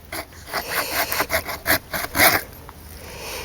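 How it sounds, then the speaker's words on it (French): A hand saw cuts through partly rotten wood that is still hard inside, giving a close, rhythmic rasp of repeated strokes for about two and a half seconds before easing off into a quieter scrape. "Là, je vais continuer de scier."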